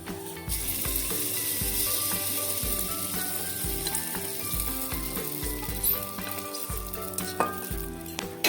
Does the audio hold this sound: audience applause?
no